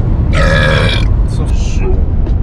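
A single loud, close burp during a burping contest, a rough, buzzy belch lasting under a second, followed by a quieter voiced grunt.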